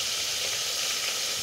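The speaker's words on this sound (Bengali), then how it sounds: "আমি মাছ দিলে কখন যে ফুটুস ফাটুস ভাজতে থাকে" Fish frying in hot oil, a close steady hiss and sizzle with faint crackling, continuous and fairly loud, no voices.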